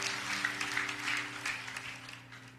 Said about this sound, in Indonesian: Kasih tepuk tangan yang paling dahsyat.